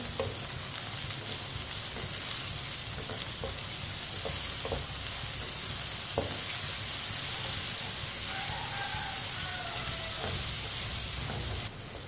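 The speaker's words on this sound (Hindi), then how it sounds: "एक बारीक कटा हुआ प्याज डालेंगे। प्याज को भी 2 मिनट के लिए पका लेंगे।" Finely chopped onion fries in oil in a pan for a ridge gourd and egg dish, giving a steady, close hiss with faint occasional stirring clicks and no voices.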